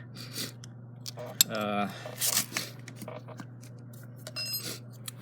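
Metal Allen wrenches are picked up and shuffled, making a quick cluster of bright metallic clinks and rattles up close, with a few scattered handling noises around them.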